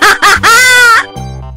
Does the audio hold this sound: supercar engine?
no